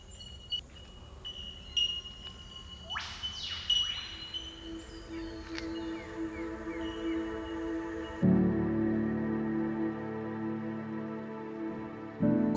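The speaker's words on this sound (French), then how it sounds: "tous ces oiseaux dont les chants font résonner la forêt" Australian forest birds sing in clear, varied chirps and whistled rising notes against a soft background hum that drops into a steady low drone in the second half, with no voices.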